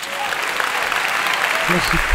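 A crowd applauds loudly and continuously, with a voice starting to speak over the clapping near the end.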